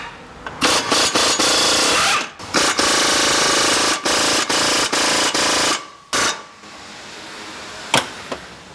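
An impact or power tool works on Loctite-secured suspension bolts on a high-mileage Chevy Avalanche, firing in loud repeated bursts with short pauses between them, followed by a few sharp clicks.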